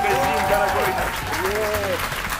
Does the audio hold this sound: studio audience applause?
yes